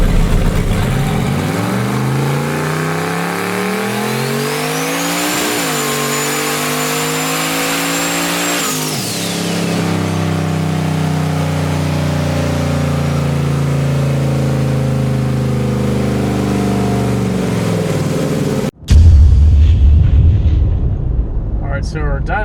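A 1991 Foxbody Mustang with a turbocharged LS engine running on wastegate boost of 14 pounds makes a loud pull on a dyno, revving up through the gears with turbo whine, then settling before an abrupt cutoff and lingering noise.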